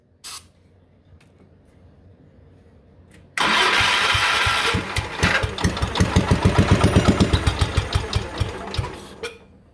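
After a few quiet moments with faint noises, the engine of a Cub Cadet riding mower cranks and fires abruptly. It settles into a loud, fast, pulsing idle close by.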